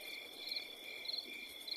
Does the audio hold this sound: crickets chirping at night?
yes